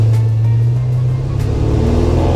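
The small block V8 of a 1987 Chevy C10 short box pickup runs loud and close with a deep, steady rumble that swells slightly, alone without talk.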